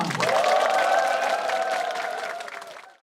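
A crowd of citizens at the opening of a project presentation contest in Iksan bursts into applause and cheers, a dense, loud clapping that swells at once, then tapers and stops abruptly.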